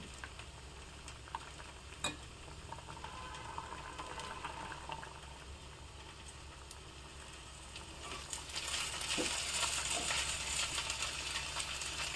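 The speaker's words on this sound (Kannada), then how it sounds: "ಚೆನ್ನಾಗಿ ಮಿಕ್ಸ್ ಮಾಡಿಕೊಂಡು ಇನ್ನೊಂದು ಎರಡು ನಿಮಿಷ ಕುದಿಸ್ಕೊಳ್ತಾ" Curry simmering in a pot after tempering is stirred in, a quiet bubbling with faint clicks, swelling into a louder, steady hiss of boiling near the end, with no voices.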